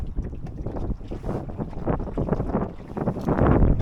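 Gusty wind buffets a sailing dinghy under new sails on a broad reach, a rough, rumbling roar that swells and dips continuously with no voices.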